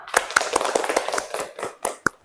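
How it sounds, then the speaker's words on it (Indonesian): Students clapping their hands in a classroom during a group counseling session, a short burst of sharp, uneven claps that thins into a few separate final claps near the end. "Tepuk tangan dulu dong"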